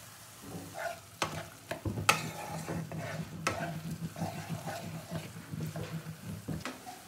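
Chicken manchurian ingredients, including ground Kashmiri chilli, fry in a pan with a continuous sizzle, while a spoon scrapes and stirs in irregular knocks close by.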